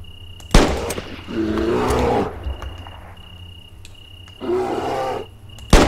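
A bear roars in the survival game NEXT DAY: Survival, two long growling roars, loud and close, separated by a short pause, with a sharp crack at the start and another near the end.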